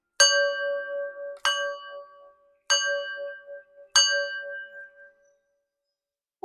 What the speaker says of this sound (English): ring my singing bowl now to clear the energy, raise my vibration